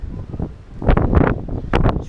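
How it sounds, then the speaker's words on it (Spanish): Strong wind buffets the microphone on top of Fuerte Niebla, a hilltop fort in Chile's Los Ríos region, in rainy, blustery weather. It comes as loud, rough gusts in uneven bursts while a person talks. "Si hay mucho viento y a veces no se escucha bien porque no saben, estamos arriba de todo"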